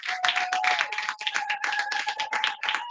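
A church congregation claps in acclamation during a service: brisk, dense clapping that rises and falls in uneven waves, with a sustained sung or hummed tone running underneath.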